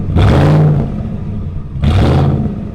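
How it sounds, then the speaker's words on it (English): A Gen 1 Ford Raptor's 6.2 liter Boss V8 exhaust revs twice, each a loud, deep throaty growl that swells quickly and falls back to a rumbling idle, close and unaccompanied by talk. "The sound, a deep throaty growl that Ford somehow got through emissions."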